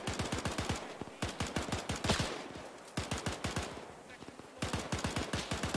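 Rapid automatic gunfire in a military video game, including a Bren light machine gun, long rattling bursts broken by short pauses, loud and continuous, with a voice speaking over it at times.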